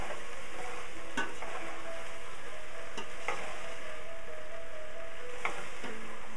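Vegetables fry in a pan over a flame, a dense, steady sizzle heard up close and alone, broken by occasional light utensil taps as they are stirred.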